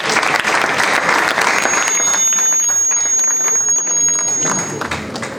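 Loud, sustained applause from an audience at a national moot competition event, dense and continuous throughout, with a thin steady high whistle-like tone through the middle and a slight fade near the end.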